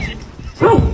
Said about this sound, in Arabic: الكلب اللي انا شريته طلع مفترس